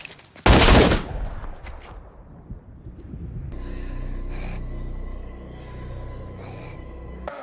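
A single loud gunshot in a tense film scene, a sharp close blast followed by a fading tail, then low rumbling tones and brief breathy sounds.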